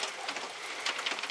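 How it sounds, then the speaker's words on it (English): A heavy rain downpour hisses steadily and fairly softly, with a dense, even patter of drops on surfaces and no voices. "rain deluge begins"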